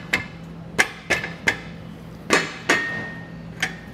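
Sharp hammer taps, about eight strikes at an uneven pace, tap a Roadmaster direct-connect base plate kit into position on a vehicle, close and distinct with short metallic rings and no speech.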